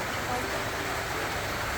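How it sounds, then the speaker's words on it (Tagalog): Steady rain falls continuously, a dense, even hiss that fills the whole moment without break, fairly loud and close, with no distinct drops standing out. "May ulan pa naman."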